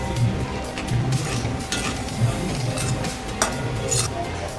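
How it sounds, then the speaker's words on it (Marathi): Cauliflower and potato curry being stirred in a pan, a steady scraping sizzle with light utensil clinks against the metal, fairly close and continuous with no talking. "आता हे ना आपल्याला मिक्स करायचं आहे मस्त"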